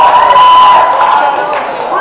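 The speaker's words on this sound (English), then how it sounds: "That got applause" An audience at an event cheers and applauds loudly and continuously for a couple of seconds, a dense burst of crowd noise with a voice speaking over it.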